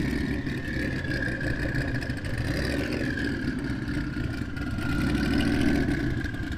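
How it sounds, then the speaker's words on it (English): Turbocharged Chevrolet Nova drag cars at a street-car drag race give a steady, continuous engine rumble with a mid-range drone, holding at a constant loudness, with no talk over it. "Couple turbocharged Novas coming up now."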